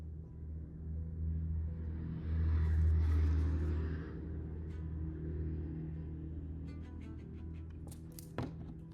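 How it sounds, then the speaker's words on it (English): A truck drives past on a residential street in Texas, a deep engine rumble that swells as it nears and fades away, with a faint thunk near the end and no talking. "I want you to hear what a Texas truck sounds like."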